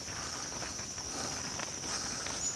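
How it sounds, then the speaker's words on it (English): A dense outdoor chorus of small frogs at a pond trills steadily, a constant high-pitched drone with faint background rustling. "I don't know if you guys can hear all the frogs or not,"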